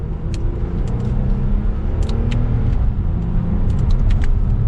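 2022 Lexus ES350 sedan accelerating from second gear using the paddle shifters, a steady loud low engine drone heard from the cabin, with faint clicks on top and no talking.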